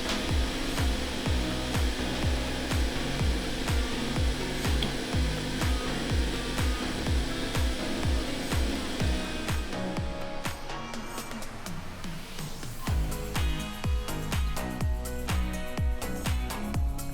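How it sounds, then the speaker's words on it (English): Heat gun set to 200 degrees blowing steadily on the adhesive of an Apple Watch Series 4 back cover, a loud continuous airy whoosh with a rhythmic mechanical pulse, turning rougher and clattery toward the end. "we're going to get our heat gun. I have it set to 200 degrees"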